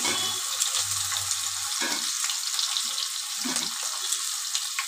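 Chopped onion fries in hot oil with a loud, steady hiss and crackle that runs the whole time, with a few soft stirring scrapes and clinks in the pan, close by.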